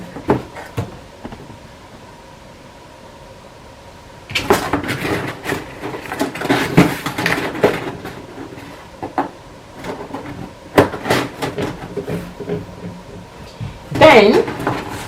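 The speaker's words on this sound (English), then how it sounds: "Get the bowl and place it in the box." Ceramic serving-set bowl and platter handled during unboxing: a quiet stretch, then clustered knocks, scrapes and cardboard rustles as the bowl is set into its box and the lid is closed, ending in a sharper clatter.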